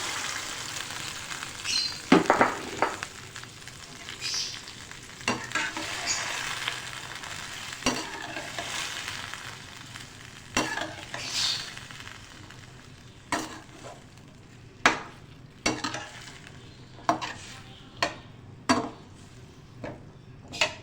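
Boiled chickpeas being tipped into a masala for chickpea curry and stirred, a soft sizzle running under repeated scraping and clinks of a spoon against the pot, quieter near the end.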